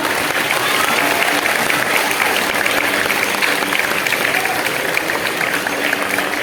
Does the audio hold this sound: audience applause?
yes